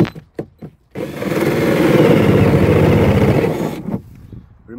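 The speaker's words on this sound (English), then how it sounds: "we're going to drill a hole right through here" A 2-inch hole saw drills through the plastic wall of a sump pump basin, a loud continuous grinding whir lasting about three seconds after a few short knocks, then stopping abruptly.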